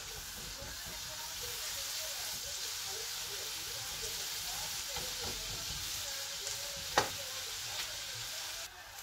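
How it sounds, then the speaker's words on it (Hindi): Steady pan sizzle from frying the vegetables for a chicken noodle stir fry, a continuous moderate hiss with faint scraping, alone and without speech. "इसको डाल के हम अच्छी तरह से फ्राई करेंगे और सोटे कर लेंगे"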